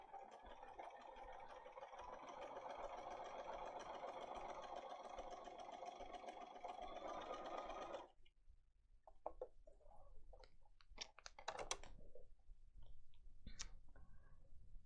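A sewing machine stitches steadily along a basting line, running as a close, even motor whir for about eight seconds, then stops, leaving scattered light handling clicks and rustles.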